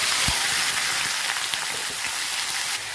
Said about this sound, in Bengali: এবার তিত করলা ভাজা দেবো।